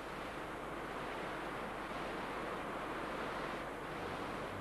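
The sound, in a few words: small river Lemme flowing in the Jura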